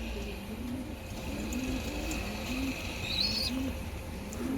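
Pigeons in a breeding loft coo in repeated low, rolling calls over a steady background hiss, fairly close, with a brief higher chirp partway through.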